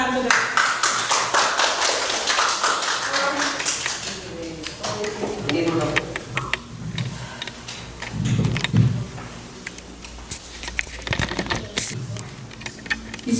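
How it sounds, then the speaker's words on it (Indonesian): Applause from an audience at a school presentation event, broad crackling claps spread across the clip with voices talking over parts of it. "Tepuk tangan saudara."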